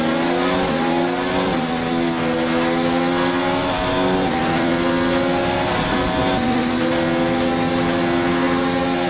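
A Formula 1 car in the racing game F1 2019 revs hard and climbs through the gears in repeated rising sweeps, a loud, continuous, high-pitched engine whine that stays close throughout.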